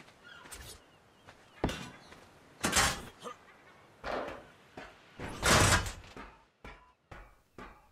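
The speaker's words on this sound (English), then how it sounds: "I'll just slap some doors in." Doors are placed while building a base in Ark Survival Evolved, a series of about ten sharp thuds and sliding bangs at irregular intervals, close and fairly loud, some heavier than others.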